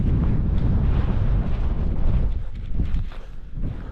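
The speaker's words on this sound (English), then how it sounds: "A bit breezy" Strong wind buffets a hilltop camp on Tosson Hill in Northumberland, a loud, low, continuous rumble with gusty swells beating against the microphone.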